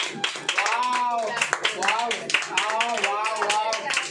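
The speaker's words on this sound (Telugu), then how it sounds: "మళ్ళీ ఒకసారి క్లాప్స్" A crowd claps steadily at a birthday celebration while a voice talks over the applause.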